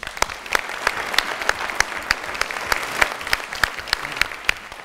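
A studio audience at a television quiz show applauds loudly, with clapping that falls into a fast, rhythmic, unison beat and stays close and continuous.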